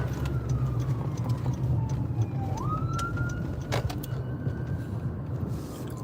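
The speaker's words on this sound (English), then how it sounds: "Where's this ambulance coming from?" An ambulance siren wails and shifts pitch as it comes up from behind and passes, moderately loud over steady traffic and engine rumble on the road.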